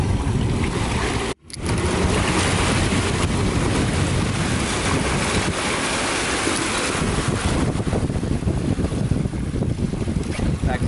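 A fishing boat backing down hard while fighting a big sailfish offshore, with a loud, steady roar of engine, wind and rushing water filling the whole stretch, broken by one brief dropout.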